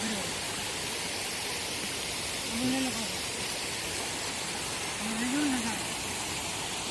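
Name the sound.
water rushing from overflowing lake in rain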